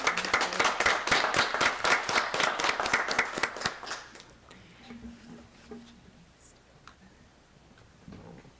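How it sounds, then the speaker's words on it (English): An audience at a Waterloo Schools board meeting claps in a dense, steady burst of applause for about four seconds, then it dies away into quiet room sound with faint voices. "We'll give you guys a round of applause, too."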